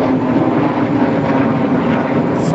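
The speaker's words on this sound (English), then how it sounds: "Sorry for the noisy voice from the jet plane." Steady, loud jet plane roar overhead in an outdoor heritage garden, a broad continuous rumble that holds evenly throughout with no break.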